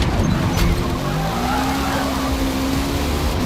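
Race cars in Forza Motorsport slide and brake hard, a steady loud engine roar with a long rising tire squeal running through it, constant and close throughout.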